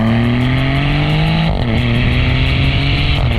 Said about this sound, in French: On descend quelques vitesses.